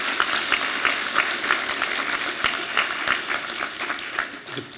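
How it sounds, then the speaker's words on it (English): Audience applause at a high school equivalency graduation ceremony, sustained clapping from a large crowd at an even level with scattered sharper claps throughout. "So give yourselves another hand of applause."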